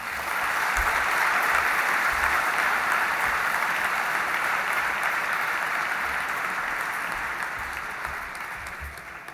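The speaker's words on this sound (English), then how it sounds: "Let's give him another big round of applause" An opening-evening audience gives Jay Leno a sustained round of applause, a thick, continuous clapping crowd that peaks early and eases gradually toward the close.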